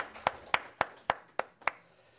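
A single person claps slowly in a church hall, six crisp, evenly spaced hand claps about a quarter second apart, close and alone in a quiet room.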